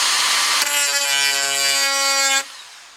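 A Dewalt DCG426 die grinder runs steadily at its second speed, a loud sustained high whine with a strong tonal hum that starts abruptly and cuts off after about two seconds, leaving a faint tail.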